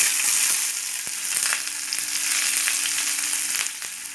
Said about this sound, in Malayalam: ഞാനൊരു ഒന്നര സ്പൂണ് എണ്ണ ഒഴിച്ചു കൊടുത്തിട്ടുണ്ട് ഇതിലേക്ക് സ്വല്പം കടുകിട്ട് കൊടുക്കാം